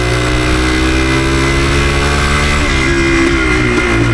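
A Yamaha DT360 motorcycle engine pulling under load in third gear with a freshly tuned carburetor, a loud, continuous buzzing drone whose pitch shifts partway through, with no talking.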